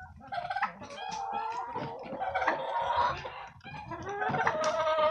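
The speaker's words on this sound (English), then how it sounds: "There's Goldie, the other Black Jersey Giant rooster." A Black Jersey Giant rooster clucks and calls repeatedly up close, with other chickens vocalizing around it in a busy, continuous stretch of fowl sounds.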